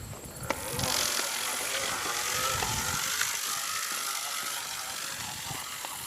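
A hand-cranked fertilizer spreader flings urea granules outdoors, giving a continuous loud whirring and rattling hiss that holds steady throughout the clip.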